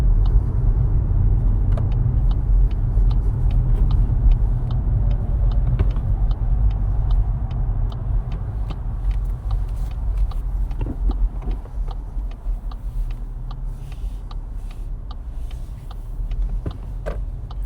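A car driving along during a driving lesson, its engine and road rumble a steady low drone throughout, with faint ticking like an indicator running over the top and no talk.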